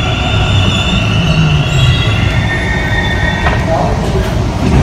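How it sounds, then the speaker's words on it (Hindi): A metro train rumbles loudly nearby with squealing wheels and rattling cars as it pulls into City Railway Station, steady and close throughout. "हमारी ट्रेन आ चुकी है सिटी रेलवे स्टेशन"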